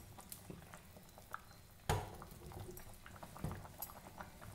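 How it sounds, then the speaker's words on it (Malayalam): A Kerala-style fish curry with vaala meen simmers in a pot, giving soft, faint bubbling and gentle popping, with one sharper knock or splash midway. "അപ്പോൾ നമ്മൾ ഈ കറി തിളച്ചുകൊണ്ടിരിക്കുകയാണ്"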